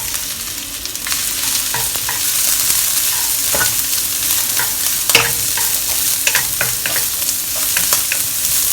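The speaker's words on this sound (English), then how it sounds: "Just stir fry them for a minute or two until the onion is a little bit soft." Thinly sliced red onion stir-fried in a wok along with garlic and ginger for a Korean spicy seafood dish, giving a steady loud sizzle broken by scraping, clattering stirs of the spatula, with no one talking.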